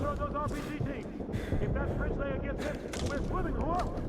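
Gunfire in Call of Duty: Modern Warfare 2 Remastered: dense, continuous bursts of shots and explosions fill the clip, loud and chaotic, while someone talks over the battle.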